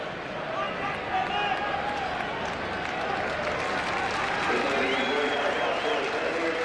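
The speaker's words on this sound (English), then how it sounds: "Big crowd here at Brookvale Oval tonight to cheer on the local side" Big crowd at Brookvale Oval during a 1988 Manly versus Great Britain rugby league match, a steady wash of cheering and applause filling the ground throughout, swelling slightly toward the end.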